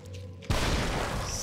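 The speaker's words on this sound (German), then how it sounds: "ein Schuss mit der Shotgun." A shotgun blast in the horror video game The Evil Within: one sudden loud boom bursts in after a quiet stretch, followed by a dense, noisy decay that fills the rest of the moment.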